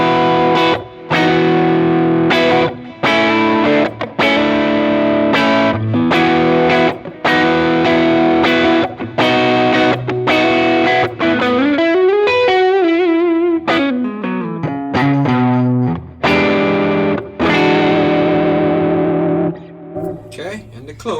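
Electric guitar through a Vemuram Jan Ray overdrive pedal plays loud driven chords and single-note lines, with sustained ringing notes, short choppy gaps and a bending run in the middle, close and up front.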